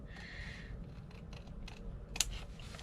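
Scissors trim the edge of cork fabric for a journal, making soft quiet snips with one sharper cut near the end, in a hushed room with no talking.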